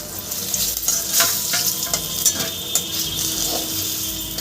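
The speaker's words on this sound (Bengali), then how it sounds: "ঠিক লাল লাল করে আমি মাছটাকে ভেজে নিয়েছি একইভাবে আর বাকি মাছটা আমি ভেজে নেবো" Katla fish pieces frying in hot oil, a bright, close sizzle with spatula stirring and light clinks of utensils against the pan, steady throughout with no talking.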